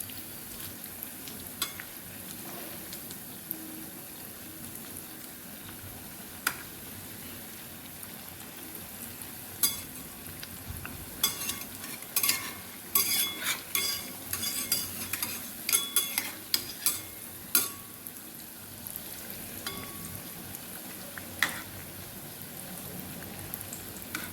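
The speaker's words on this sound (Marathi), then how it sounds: "असे कमी गॅसवर तळून घ्यायचे आणि एक एक भाग असं फिरून घ्यायचं" Crispy chana dal vadas fry gently in oil over a low flame, a soft continuous sizzle broken by clusters of sharper crackles and spatula clicks as the pieces are turned one by one.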